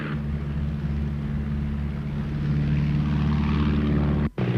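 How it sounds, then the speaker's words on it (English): A propeller biplane drones steadily overhead, its low engine hum holding loud and constant for several seconds before cutting off briefly near the end. "It's a type of biplane."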